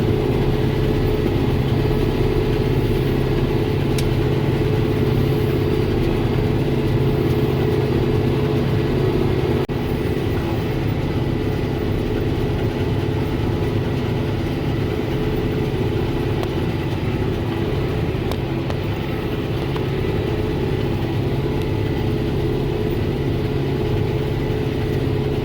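Tractor engine running steadily at a low, even rumble while pulling a New Holland BR7060 round baler through a hay field, maneuvering to line up with the next row; continuous and fairly loud, with no talk.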